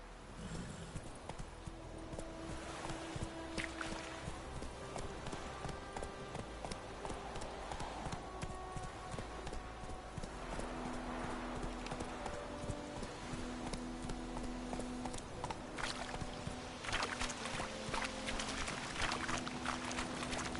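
Hooves of the horse Roach clip-clopping steadily in a video game, a quiet rhythmic trot heard alone beneath faint game music and ambience.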